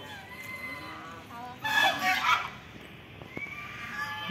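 Large geese at a temple pond give a short burst of honking calls in the middle, moderately distant, over a low outdoor background with faint voices nearby.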